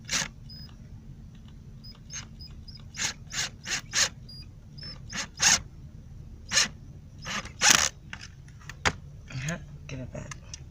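A power driver drives screws into the support of a van bed, with short ratcheting and whirring bursts and clicks in a stop-start rhythm, close by, and some sparse talk between bursts.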